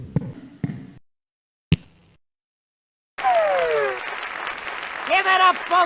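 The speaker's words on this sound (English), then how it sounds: "Give it up, folks. Let's hear some applause." Cartoon applause in the 1998 Freddi Fish 3 video game follows a few sharp knocks and a brief pause, a burst of crowd clapping and cheering with a voice speaking over it near the end.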